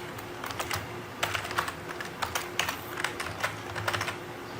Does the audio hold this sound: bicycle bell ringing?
no